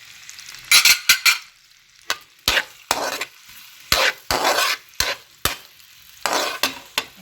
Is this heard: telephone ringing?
no